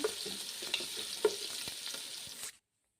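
Chopped onions fry in a pan until brown, giving a steady close sizzle with occasional stirring scrapes, then cutting off abruptly.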